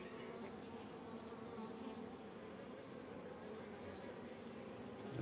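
Honey bees buzz continuously at an open hive from a mite-infested colony, a faint, steady drone of many insects that stays even from start to finish.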